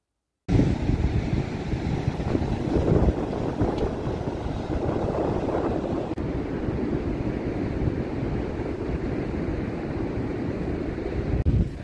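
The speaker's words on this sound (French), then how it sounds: "J'ai du vent autour" Steady wind buffets the microphone in a dense, continuous roar, with rough rushing water beneath it and no voices over nearly twelve seconds.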